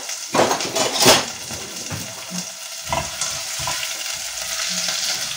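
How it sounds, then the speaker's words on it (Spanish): Onion with a pinch of salt hits hot oil in a pan, giving a steady, close sizzling hiss with a few clinks of a utensil against the pan and no talking. "para echar la cebolla porque, ¿veis? Ya está calentico el aceite."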